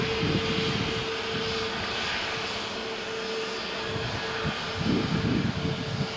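A Brussels Airlines airliner at Malaga Airport gives off a continuous, moderately distant engine roar with a steady tonal hum that swells slightly near the end, on a stormy morning.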